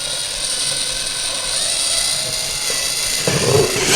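A power drill fitted with a hole saw bit grinds steadily through ceiling sheetrock, a continuous high whirring cut that roughens and grows louder near the end as the bit bites deeper.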